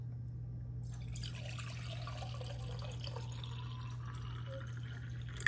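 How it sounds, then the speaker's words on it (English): Filtered water pours steadily into a coffee maker's reservoir, a continuous close splashing trickle over a low hum, with a brief clunk at the very end. "Now we've got to fill this first."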